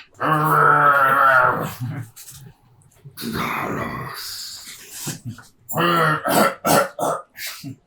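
A voice imitates two orcs coughing and choking from poison spray during a tabletop fantasy role-playing session, giving raspy, throaty coughs and growling bursts in close, loud vocal outbursts with short pauses between.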